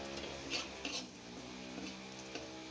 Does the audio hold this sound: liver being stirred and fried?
yes